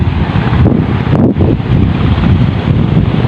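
Strong wind buffets the microphone in a loud, continuous roar with rumbling low gusts, briefly easing for a moment before surging back.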